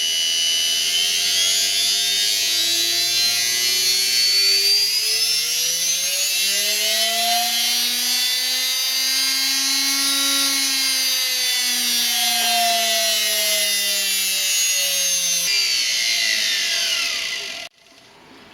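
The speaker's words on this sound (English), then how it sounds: "I'll show you just how fast these things spin up" A small high-speed electric motor for supercharging a belt sander spins up with a loud, rising whine whose pitch climbs, holds and then sags before it cuts off abruptly near the end, close by, with no talk.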